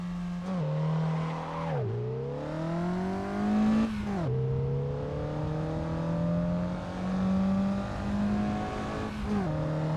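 A Suzuki Liana drives the Top Gear test track in Assetto Corsa. The engine drones steadily, with repeated revs rising through the gears and sharp drops at each shift, loud and close, with no talking.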